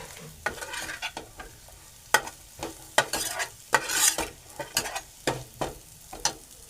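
Vegetables are sautéed in a hot pan, steady sizzling broken by repeated sharp scrapes and clacks of a spatula stirring at an uneven rhythm, close and clear.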